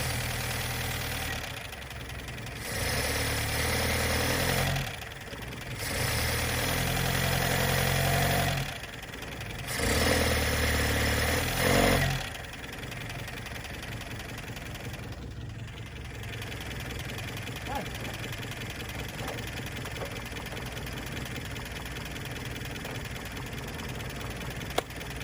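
A 1972 Plymouth Cricket engine runs and idles steadily with a low rumbling drone, broken early on by several short revving surges before settling into an even idle.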